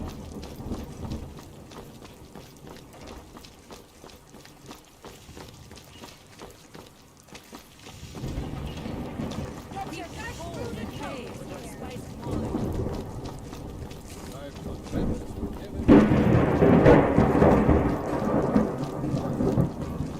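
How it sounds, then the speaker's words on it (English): Steady rain with rolling thunder in the video game Skyrim Special Edition, swelling louder toward the end, a low rumbling storm filling the background while a voice talks over it. "that thunderstorm's pretty loud, and it's the way it should be too"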